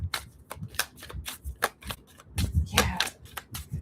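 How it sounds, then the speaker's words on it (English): A deck of tarot cards being shuffled by hand, a rapid series of crisp riffling bursts and soft slaps, close and fairly loud, with no talking. "Sometimes just the shuffling is all you need."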